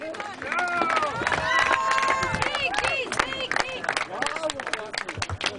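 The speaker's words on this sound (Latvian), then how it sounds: "Aplausi Nameisim!" An audience at a wrestling bout in Tērvete applauds and cheers the winner, Nameisis, with crowd noise and clapping mixed under lively, overlapping talk and shouts that rise and fall.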